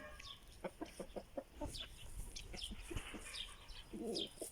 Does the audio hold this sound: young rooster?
yes